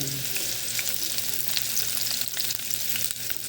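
Garlic sizzles steadily in hot oil in a pan for a Filipino sautéed bitter melon dish, a continuous close crackling fry with a low hum underneath and no talk.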